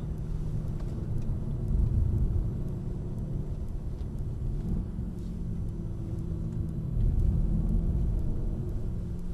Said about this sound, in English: All the AMGs have this really iconic noise. Just this growl, you know.